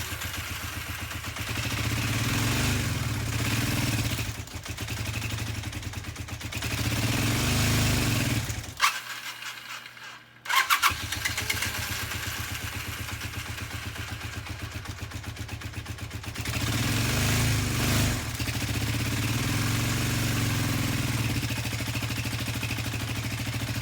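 A rebuilt-carburetor Honda CB400 TII motorcycle engine runs steadily and loudly up close, with a mid-pitched idling clatter, one brief cutout near the middle before it catches again and keeps running.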